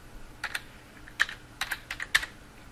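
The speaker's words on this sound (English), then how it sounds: "you can simply click in the search bar type in Paint," Typing on a computer keyboard to enter a program name into a search bar: a short, quiet burst of about ten light key clicks in an uneven rhythm, close by in a quiet room.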